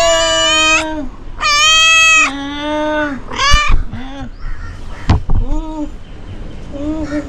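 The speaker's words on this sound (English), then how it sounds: "You have kitty." A small kitten at a bungalow near Arugam Bay in Sri Lanka meows loudly and close by, about seven drawn-out cries with a few short clicks and thumps between them, alone with no talking.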